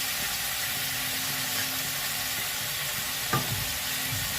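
Fenugreek leaves fry in a pan with potatoes and chili, giving off a constant, even crackle of hot oil at moderate level, with one sharp utensil tap near the end.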